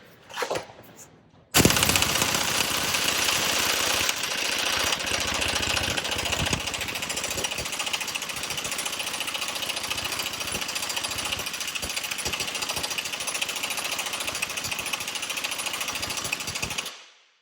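Snap-on MG325 pneumatic impact wrench running on a full air compressor, a loud continuous rapid hammering rattle lasting about fifteen seconds after a brief quieter start, close and steady.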